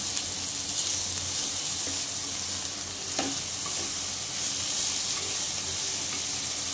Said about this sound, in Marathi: नंतर थोडी थोडी भाजी आपण परतून घेऊया